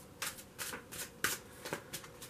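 Tarot cards are shuffled by hand close to the microphone, a quiet series of quick riffling bursts in an irregular rhythm, alone and without speech.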